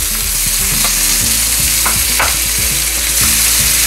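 Shredded carrots hit a hot frying pan and sizzle loudly and steadily, close up, with a few stirring scrapes, while pork chops cook for candied pork chops and passion fruit pilaf.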